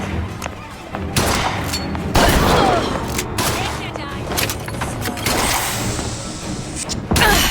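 Gunfire in the video game BioShock Infinite, bursts of shots and thuds running through a busy combat scene, with in-game voices shouting over the loud, dense action.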